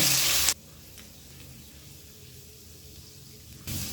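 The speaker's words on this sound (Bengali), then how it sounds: "গ্যাসটাকে হাই ফ্লেমে রেখে 30 থেকে 40 সেকেন্ড ভেজে নেব।" Chopped garlic and ginger in mustard oil over a high flame, crackling in a soft, even sizzle that runs steadily between louder handling noises at the start and end.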